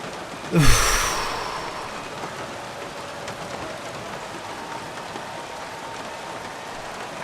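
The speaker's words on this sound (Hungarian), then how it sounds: "Szakad az eső!" Heavy rain in the F1 2016 racing game, a continuous even hiss of downpour that follows a brief loud swoosh near the start and then stays steady to the end.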